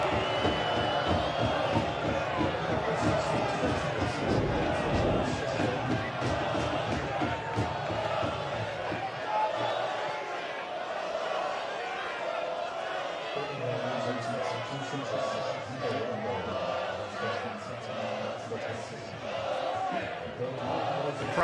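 A soccer stadium crowd roars and jeers in displeasure at a whistle and yellow card during a Detroit City FC versus Birmingham Legion FC match, a loud sustained wash of voices that thins later, under faint talk.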